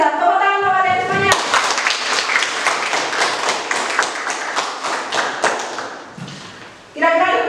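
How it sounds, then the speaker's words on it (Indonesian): A classroom of students claps together for about six seconds, a steady burst of many close hand claps that fades out, with a teacher speaking just before and after. "Tepuk tangan untuk kalian semuanya."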